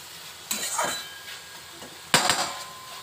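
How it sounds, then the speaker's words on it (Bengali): Peanuts, poppy seeds, garlic, dried chilli and cumin fry in a pan, with two bursts of metal stirring scrapes and clatter over a faint background sizzle. "এটা আর একটু ভাজা হবে।"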